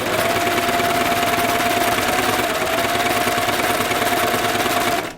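A sewing machine stitching the neckline of a knit T-shirt, a loud, steady mechanical whir running without a break for about five seconds, then stopping abruptly.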